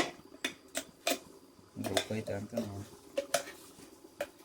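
Dishes and pots are washed in a home kitchen: scattered metallic clinks and clatters of steel utensils, fairly faint, with people talking over much of it.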